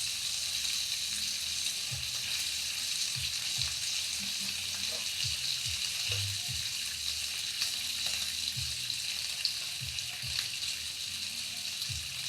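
Bacon frying in hot grease, a steady bright sizzle with crackling pops throughout, close and continuous, with scattered low knocks underneath.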